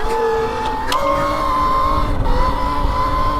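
A 72-volt Sur Ronster electric dirt bike rides under load, a steady high motor whine with rising and falling tones, and a short sharp burst near the middle. It sounds close and loud throughout.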